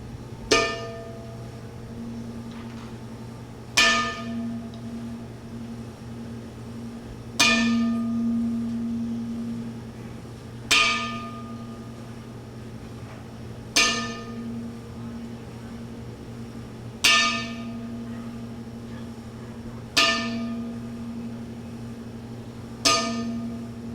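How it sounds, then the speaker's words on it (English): A bell struck ten times in a slow, evenly spaced series as a salute at a women's wrestling event in Ybor City, Florida, each ringing strike decaying before the next over a low steady hum. "we'd like to honor him with a 10-bell salute"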